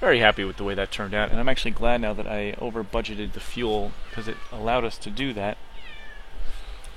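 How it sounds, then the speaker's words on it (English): A house cat meows in the background while someone talks continuously over it, with a few short, high, faint calls rising near the end. "that's my cat meowing in the background."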